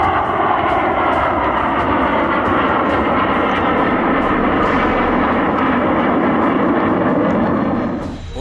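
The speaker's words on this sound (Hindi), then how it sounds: "देखिए किस तरह एक साथ 3 लड़ाकू विमान पूर्वांचल एक्सप्रेसवे के ऊपर आसमान में लहराते हुए" Three fighter jets fly over the Purvanchal Expressway, a loud sustained engine roar that fills the air before easing off near the end.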